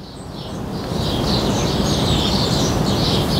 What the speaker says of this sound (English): there's loads of birds singing in the trees